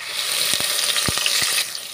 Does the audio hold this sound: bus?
no